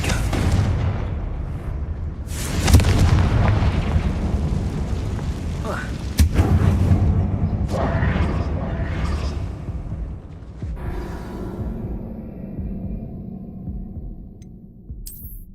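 Confringo blasting spells exploding in a mine in Hogwarts Legacy, with heavy booming blasts and sharp cracks, two prominent impacts among rumbling debris, then fading into a softer echoing rumble and hiss.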